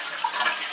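Water rushes from a toilet tank through the open flapper into the bowl, a short, close, steady hissing flow lasting under a second.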